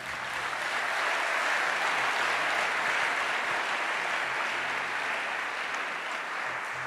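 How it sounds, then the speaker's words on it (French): Church congregation applauding and cheering, a dense sustained roar of clapping that fills the room steadily throughout, loud and continuous with no speech over it. "Oh, acclame plus fort que ça."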